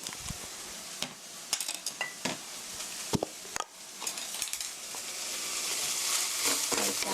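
Stirring brown sugar into sautéed onions in a pan for mapo tofu: a soft, steady sizzle with scattered scraping clicks of a utensil against the pan, close and moderately quiet, no talking.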